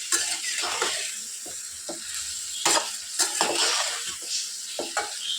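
Brinjal pieces coated with salt and turmeric are stirred and fried in a pan: a steady sizzle punctuated by repeated scraping and tossing bursts from the spatula, close and fairly loud, no talk.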